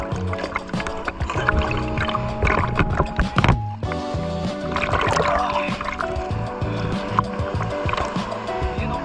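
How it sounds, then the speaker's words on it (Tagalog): Rough sea surf at a beach in Pangasinan, with continuous loud churning and sloshing water and broadband rushing that swells and dips for several seconds. "Lakas ang alon."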